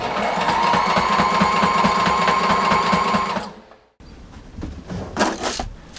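Close, loud and even, a sewing machine runs a fast rhythmic stitch on a bug screen for a sailboat cockpit for about three seconds, then stops, followed by quieter handling noises.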